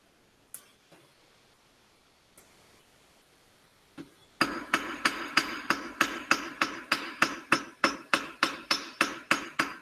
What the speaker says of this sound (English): Hammer blows go lighter towards the tip because the tip's going to move more.